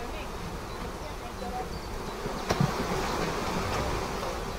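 Dense honey bee buzz fills the air as a bee brush sweeps bees off a honey frame at a migratory apiary during rapeseed honey extraction, a steady close hum with a brief knock midway.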